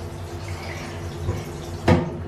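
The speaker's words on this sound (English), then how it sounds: "Let's rinse out my face a little bit." Water splashes over a face at a sink after washing locs, a steady faint trickle with one brief louder splash near the end, no talking.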